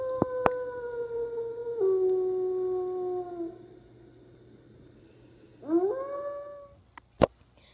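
A gray wolf howls in long, smooth sustained tones that slide downward, followed by a second rising howl, clear and prominent against a quiet outdoor background, with a couple of sharp clicks.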